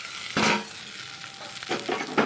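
Fish frying in hot oil in a pan for a Bangladeshi chili fish dish, heard as a continuous close sizzle broken by a few sharper spattering bursts.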